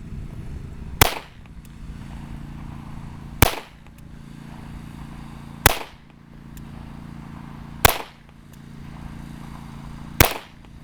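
A Ruger Mark I pistol fires five sharp shots at a steady pace, roughly two seconds apart. Each crack is loud and close and rings off briefly over a low background hum.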